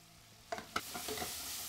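Pecans stirred in a pan give a few quick clattering scrapes and light sizzling, brief, close and quiet, with no talk.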